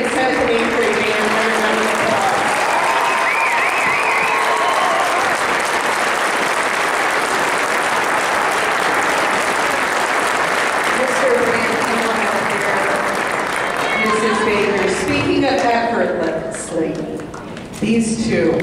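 An audience at a high school concert band performance claps in sustained, dense applause that stays loud and steady, then thins out near the end as a voice speaks over it.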